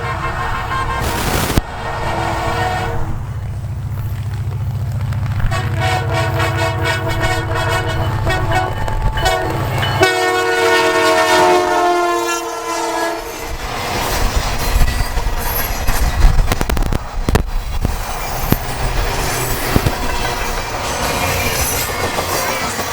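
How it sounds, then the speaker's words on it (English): The CPKC Holiday Train passes close by, its engineer sounding long horn blasts over rumbling, clattering wheels and squealing rails, loud throughout. "while the engineer also gave us a horn show on his train."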